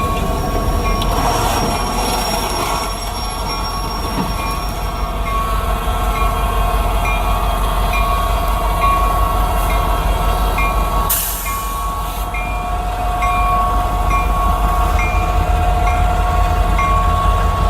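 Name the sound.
freight train passing with horn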